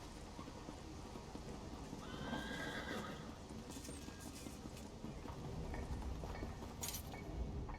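A horse in Elder Scrolls Online gives a clear whinnying neigh along with clip-clopping hooves, moderately loud and close, over a soft ambient game background.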